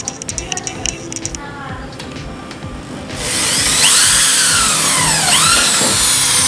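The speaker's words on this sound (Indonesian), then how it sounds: "kita akan bor" A small bit drills holes into an ATS AMF electrical panel door, its high whining drill screech kicking in loudly after a few seconds of quieter clicks and rising and falling in pitch as it bites into the metal.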